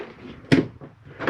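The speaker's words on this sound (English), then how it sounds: "snapping doors closed" Cabinet doors inside a 2015 Jayco Eagle 306RKDS travel trailer snap shut with a sharp, close knock, followed by softer thuds and a second latch sound, loud and near with no speech.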